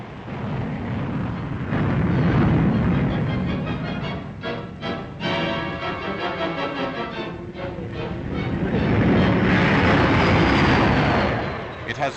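A four-engined Avro Ashton high-altitude research jet, powered by Rolls-Royce Nene turbojets, roars loudly and steadily overhead at a 1950 Farnborough air display, a broad sustained jet rumble that swells and fades.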